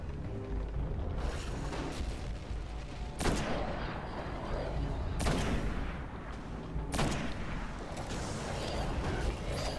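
Sniper rifle shots in a video game, three or four loud, widely spaced cracks that each ring out into a long echo, with steady background rumble between them.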